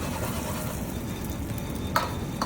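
Tortang lechon fries in a pan with a steady, close sizzle and crackle, broken by a couple of brief clinks near the end.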